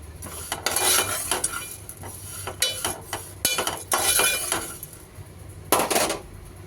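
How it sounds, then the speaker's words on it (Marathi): Dry-roasting poha (flattened rice) in a pan for homemade baby cereal gives steady scraping and rattling as it is stirred, with irregular louder bursts and faint clinks of utensil on metal. "त्याच प्रकारे आता पोहे भाजून घेणार आहोत।"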